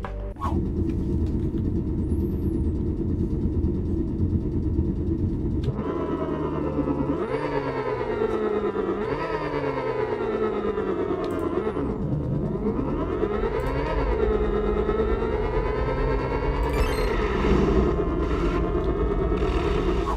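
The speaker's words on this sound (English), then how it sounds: "we're going to be going over the sound production techniques that we used to create the engine audio sound inside of our racing game" A synthesized car engine from an Unreal Engine 5 racing game drones continuously, its pitch climbing and falling through repeated rev sweeps and gear shifts, loud and steady with no talking.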